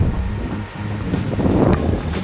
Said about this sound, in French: Il y a une tempête en même temps les gars